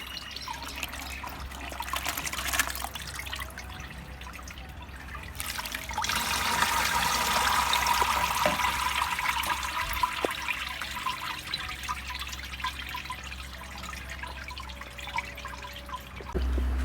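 Liquid drains and trickles steadily while fermented pineapple peel brewed with brown sugar is strained, a continuous splashing flow that swells partway through and stays close and fairly loud, with no talk.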